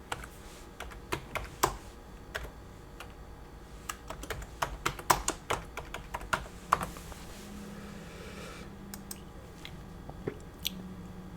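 Typing on a computer keyboard: scattered soft key clicks and taps in irregular bursts, fairly quiet and close, with no talking.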